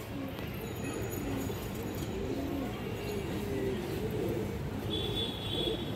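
Domestic female pigeons coo softly in a loft, low repeated burbling calls over a steady background hum, with a faint high chirp near the end.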